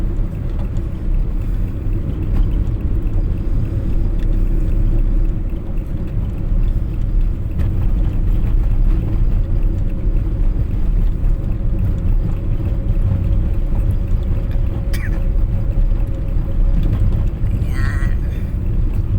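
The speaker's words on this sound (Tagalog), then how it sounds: "Kami dahan-dahan lamang pagtakbo at kawawa yung sasakyan. Ang bigat ng karga namin." A heavily loaded vehicle carrying rice moves slowly on the road from Lemery to Lipa City in Batangas, giving a steady low engine rumble and road noise that runs loud and unbroken throughout.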